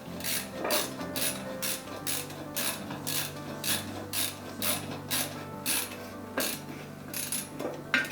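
Screws being snugged with a hand tool while building a Prusa MK4 3D printer: a steady series of soft, repeated ratcheting clicks, close up and fairly quiet, with no talk.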